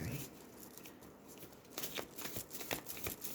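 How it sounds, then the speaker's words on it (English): Tarot cards from a Sufi Tarot deck are shuffled close by, a brief papery riffling that starts about halfway through, following faint background noise. "Might have to give them a bit of a good shuffle"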